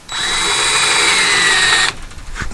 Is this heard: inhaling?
no